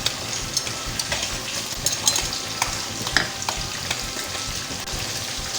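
Ghee sizzles on a makki roti cooking on a hot griddle, giving a steady, close crackling hiss with small pops and occasional scraping, and no voices.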